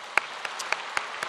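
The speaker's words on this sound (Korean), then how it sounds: "우리 하나님께 영광의 박수를 드립니다." A church congregation claps in a steady wash of applause, with a few sharper individual claps standing out briefly.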